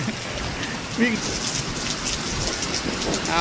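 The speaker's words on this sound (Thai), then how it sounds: "อ้าวฝนตก" Steady rain from an approaching rainstorm pours down as a dense, even hiss across the whole stretch, with a few brief voices calling out in the background.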